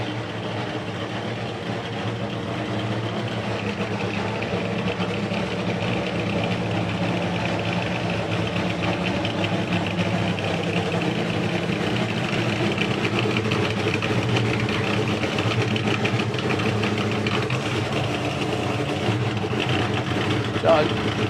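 A drag racing car's engine idles steadily and somewhat high at a nostalgia drag racing event, a continuous mid-pitched drone running throughout with someone talking over it.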